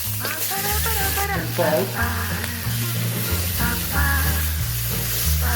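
Blanched pork sizzles loudly as it fries in a pan, with stirring scrapes and bursts of crackle throughout while a person speaks briefly over it.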